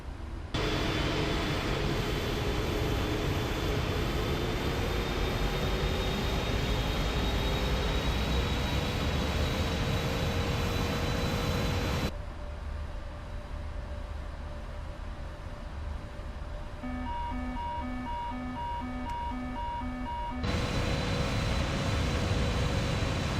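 A PMDG 777 airliner rumbles through takeoff in Microsoft Flight Simulator, a loud continuous engine roar with rising whine that drops abruptly mid-way, then returns with beeping alert tones before resuming.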